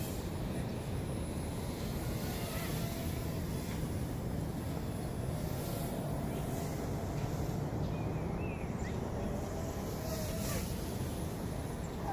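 A Lian Sheng LS124 RC helicopter held at full throttle, giving a steady, loud broadband rotor-and-motor roar that stays constant throughout with no pauses.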